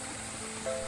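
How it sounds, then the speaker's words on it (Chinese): A mountain spring flows below stone steps, a soft continuous babble of water trickling steadily, brief and moderately faint with no voices. "台阶的下方听到潺潺的流水声"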